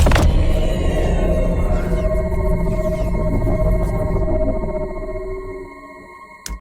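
Layered energy beam sound effects play together, a dense rumbling, whooshing swell with sweeping tones and sonar-like pulses that slowly thins and fades toward a quiet tail, alone without talk.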